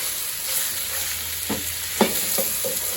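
A kilo of minced meat frying in a pan for lasagna, a steady close hiss of sizzling fat with a few soft scrapes and taps of a utensil.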